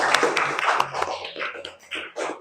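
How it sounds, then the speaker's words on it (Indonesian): A class of students clapping hands together in a classroom during an Islamic religious education lesson, a short burst of scattered claps with some voices mixed in. "Tepuk tangan dulu."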